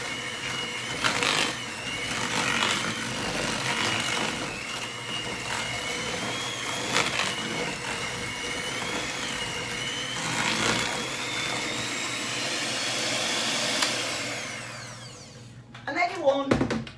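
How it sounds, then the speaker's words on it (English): An electric whisk beats cake batter with eggs in a long, steady motor whir that lasts about fourteen seconds, then cuts out with a few clatters at the end, while someone talks over it. "what I'm going to do is whisk it again"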